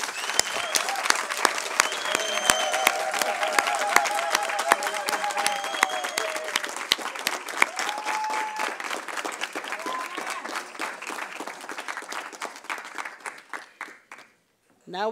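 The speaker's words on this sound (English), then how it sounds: "can we please give another rousing round of applause?" Sustained audience applause at a university professorial inauguration for a humanities professor, dense and steady for most of the clip with cheers and whistles over it, thinning out near the end before a brief voice.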